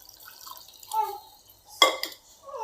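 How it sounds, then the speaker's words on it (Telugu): Water splashes into a pot of cooking gongura dal made with lentils and onions in a short, bright pour near the middle, preceded by faint kitchen sounds. It is fairly quiet and close, with no talking. "ఇలా కొన్ని వాటర్ పోసుకొని"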